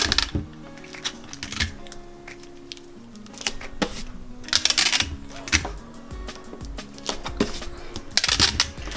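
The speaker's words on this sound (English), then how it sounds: "Line it up there, there, there, there, and there. And go ahead and tape it" Printed PDF sewing pattern sheets are lined up and taped together, with crisp paper rustles, tape tearing and clustered crinkling bursts of handling noise, fairly close and without talk.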